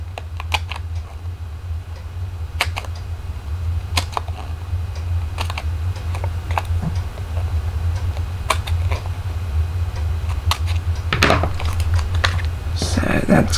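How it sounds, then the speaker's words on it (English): Scissors snip paper cut-aparts for a handmade card in a series of short, sharp clicks at irregular intervals, close by, over a steady low hum. "So I'm just going to come in and go ahead and snip a lot of these off."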